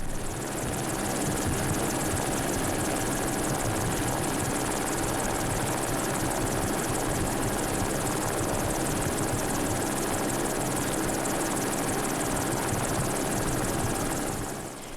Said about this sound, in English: The helicopter has now arrived over the Grouse Grind trail